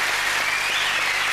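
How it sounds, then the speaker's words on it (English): Studio audience on a 1995 British TV game show applauding a contestant: dense, steady clapping with a brief swell, close and loud, no talking over it. "I'd like a nice round of applause to this lady"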